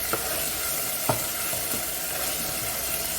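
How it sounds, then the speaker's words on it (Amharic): Tomato paste fries in a pan with a steady, close sizzle and a few soft stirring clicks. "ቲማቲም ማጁን እንደዚህ ሲጠበስ በጣም አሪፍ ነው።"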